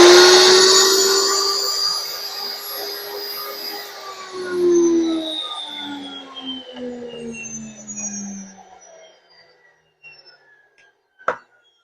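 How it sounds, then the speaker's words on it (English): NutriMill Impact grain mill switched on to mill flour, a loud high-pitched motor whine that winds down over several seconds into a fading hum, ending with a single sharp click. "I'm going to cut each one on so you guys can hear the noise difference of the two"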